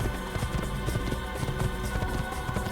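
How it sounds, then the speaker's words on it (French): Rapid hoofbeats of a galloping horse in the video game Assassin's Creed drum steadily throughout, dense and continuous over a busy background. "Cheval."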